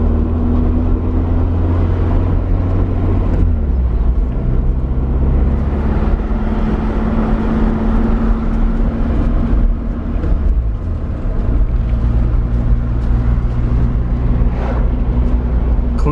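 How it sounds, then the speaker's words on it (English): A Nissan 240SX drives along with a steady engine drone and road rumble heard from inside the car. The engine tone shifts slightly as the car changes speed, and the sound stays loud and continuous throughout. "the car drives straight, not like my other car"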